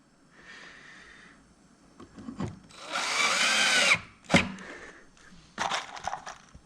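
A power drill drives screws into wood during a rocking chair restoration, with short bursts of whirring and a crunching grind as each screw bites, separated by quiet pauses, close by with no talk.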